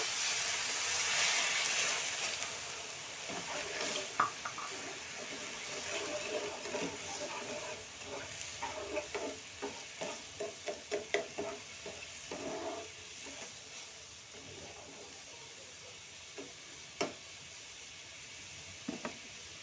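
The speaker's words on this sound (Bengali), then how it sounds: "দেখো আমার এই উপাদানটা পুরোপুরি ফুটতে শুরু করেছে" Chili pickle mixture with vinegar and garlic cloves simmers and sizzles steadily in a pan, with a constant steamy hiss and scattered stirring clinks and taps in the middle.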